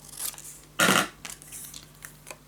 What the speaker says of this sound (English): Gonna cut this down and cut it out